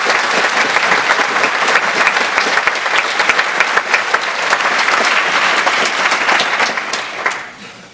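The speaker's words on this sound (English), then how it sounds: "So a big round of applause for all you guys." A large live audience claps loudly and steadily for nearly eight seconds, a thick, sustained roar of hands that drops off sharply at the very end.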